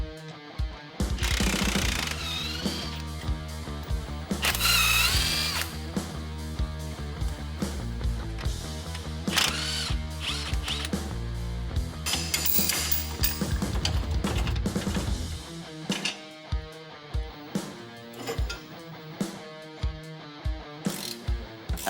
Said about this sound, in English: With the axle supported, I'll loosen the U-bolts and then remove the U-bolt plate.